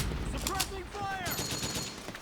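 Rapid bursts of suppressing gunfire in Metal Gear Solid 4, a dense rattle of automatic shots crackling throughout the battle, overlapped by shouted voices.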